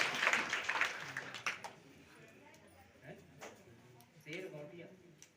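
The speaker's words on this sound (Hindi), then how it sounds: "जोड़ ताली सम्मान करो साधु जी।" An audience at a Satnam spiritual gathering claps to honour a named person, a short burst of applause at the start that quickly fades beneath someone speaking.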